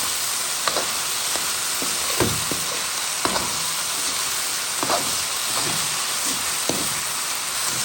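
Pork and vegetables sauté in sizzling oil, a steady close hiss and crackle with occasional sharper pops and stirring clinks throughout, no talking.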